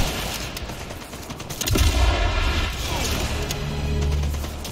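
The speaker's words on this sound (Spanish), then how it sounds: "No veo por dónde me llegan los tiros." In Sniper Elite 5, gunfire cracks and booms in a loud game battle, with sharp shots and a heavy blast that leave a rumbling tail, over a dense noisy background.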